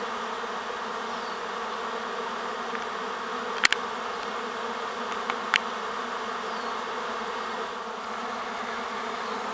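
A swarm of honey bees buzzes steadily around a hive among pear trees outdoors, a constant droning hum with a few individual bees zipping close past.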